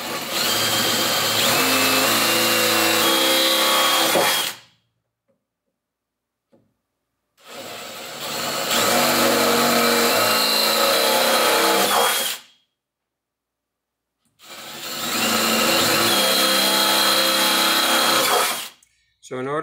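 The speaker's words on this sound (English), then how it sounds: "I'm going to re-drill the holes with the 25/64 inch bit that's sized properly for our threaded inserts." A power drill re-drills holes with a 25/64 inch bit, sized for threaded inserts, during installation of a removable pickup truck bed storage box; three loud, steady bursts of drilling of about four to five seconds each, separated by silent pauses.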